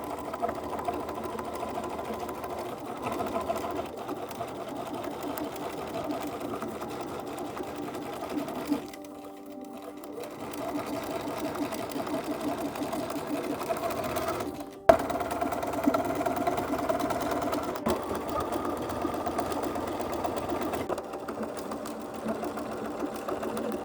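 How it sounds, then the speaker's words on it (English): A sewing machine runs steadily, stitching boning channels into a gothic ballgown, its whirring motor continuous and close with two brief pauses and a sharp click midway. "stitch on either side really close to the edge, and that will be another channel."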